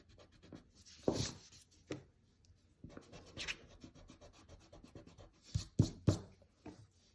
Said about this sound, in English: So we can erase in here.